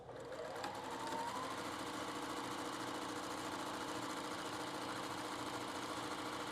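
A sewing machine runs continuously, stitching fabric at a fast, even whirring pace with a steady mechanical buzz and no pauses.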